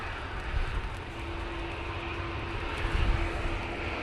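Etihad airliner taxiing at windy Manchester Airport, a steady far-off jet engine drone with a thin whine, buffeted by wind gusts.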